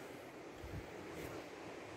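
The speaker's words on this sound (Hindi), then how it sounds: "ये नदी यहाँ से बह रही है" A mountain river flows steadily in a rocky hillside area, a broad, even rush of water heard from a distance, fairly quiet, with some wind buffeting the microphone.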